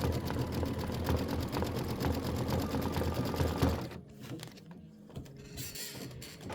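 An embroidery sewing machine works a satin stitch on a quilt block, a rapid close-up mechanical chatter that runs steadily for about four seconds, then stops, leaving a few faint clicks and handling noises.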